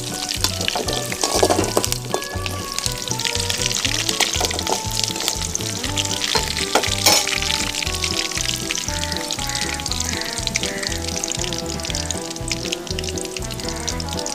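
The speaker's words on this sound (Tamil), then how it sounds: "பச்சை மிளகா கொஞ்சம் ஃபர்ஸ்ட்டே போட்டுருங்க, நல்லா ஃப்ரை பண்ணிக்கோங்க." Green chilies fry in oil in a pan outdoors for a chicken fry, a continuous close sizzling hiss over rhythmic background music.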